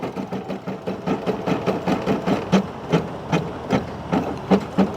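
An embroidery machine stitching a design, run off a Honda Ridgeline RTL-E parked outdoors, with a fast steady mechanical chatter of needle strokes close by and a low hum under it.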